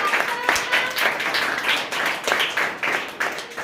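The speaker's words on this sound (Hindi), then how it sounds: "जोरदार ताली।" A school audience claps for a student at an exam results announcement, a dense, steady patter of many hands running through the whole stretch at moderate loudness with no voice over it.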